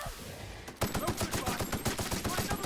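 Rapid, evenly spaced gunfire from a video game, an Elden Ring samurai run, breaks in after a brief muffled lead-in and continues as steady loud bursts of shots.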